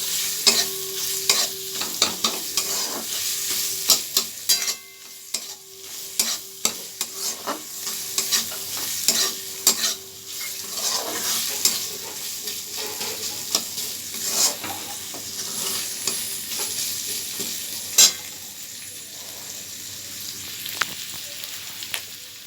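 Onions sizzle in hot oil as a spatula scrapes and stirs them around the pan in a home kitchen, with steady frying hiss and repeated clatter throughout.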